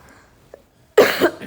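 A single harsh cough from someone with a lingering cold and phlegm, close and loud after a near-silent pause, with a rough throaty tail.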